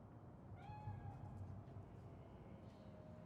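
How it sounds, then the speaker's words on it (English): A cat meows in the Cyberpunk video game, one drawn-out, rising mew standing out over a steady low game ambience. "It's just a cat."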